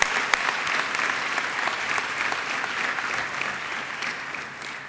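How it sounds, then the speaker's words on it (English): Audience applause at an Electrochemical Society plenary and awards session for a division chair: a sustained, even sheet of clapping from a large crowd, moderately loud throughout. "Please join me in a round of applause."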